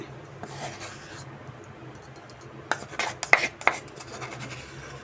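A spoon stirs custard powder into milk in a bowl, giving a faint, soft rasping scrape that turns into several sharper clinks and scrapes toward the end.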